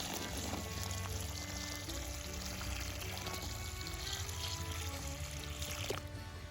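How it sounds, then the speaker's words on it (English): Water poured from a bucket into a planting hole dug in garden soil for tomato plants, a continuous close gushing pour that runs steadily and tapers off near the end. "I have a bucket of water here, and we're just going to fill this hole up with water."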